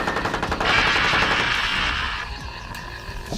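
Rapid machine-gun fire rattles in a dense, loud burst aimed at a creature, then fades out into a lingering echo and scattered clatter.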